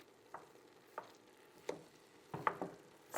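Ground meat for a Bolognese sauce fries in a pan and is broken apart with a wooden spoon: a handful of soft scrapes and taps over a faint, steady sizzle, with no talking.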